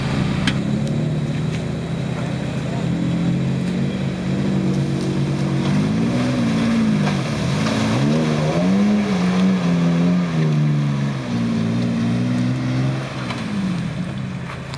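A four-wheel drive revs hard while crawling through an off-road obstacle course, a loud continuous engine drone that rises and falls in pitch throughout.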